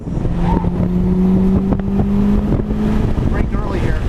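A 2006 Mitsubishi Evo 9 MR pulls hard on a race track, its engine tone droning steadily and rising slightly under heavy wind rumble inside the cabin, loud and continuous.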